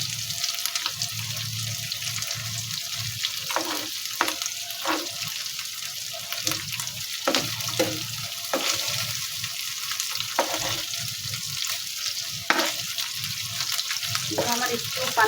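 Tilapia-type fish fries with spices in a pan, giving a steady low sizzle under scraping and stirring clatter, with occasional sharper knocks from a utensil against the pan.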